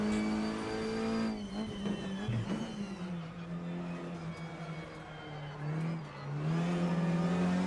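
A 2008 Skoda Octavia Cup car races at Donington in the game Assetto Corsa, its engine droning and revving steadily through gear changes, with shifting pitch and brief tire noise.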